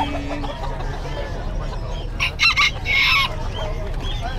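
U.S. Satin chickens at the Bocaue pet market in the Philippines give a couple of short, loud clucking bursts and a crowing call over a steady crowded-market din.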